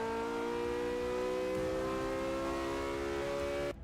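A Porsche 918 or Toyota Celica launching and accelerating in Forza 6; a loud, steady engine whine rises smoothly in pitch through one long pull, then cuts off abruptly at the end.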